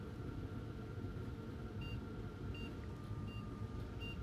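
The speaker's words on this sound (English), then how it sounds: "We heard six beeps." Four short, evenly spaced computer POST error beeps sound over a steady low hum of machine noise, from a PC with a faulty MSI GTX 1070 graphics card.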